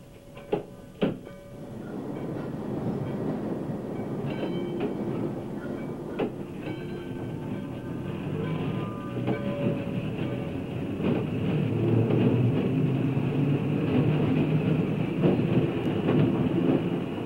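An interurban electric railway car on the Chicago, Aurora and Elgin line rumbles closer, a low steady roll that swells gradually toward the end, with a couple of sharp clanks early on and a faint ringing tone above.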